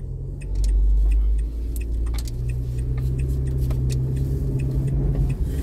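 A car moving slowly, heard from inside as a low, steady engine rumble and road hum with faint rattles and jingling throughout, swelling briefly louder near the start.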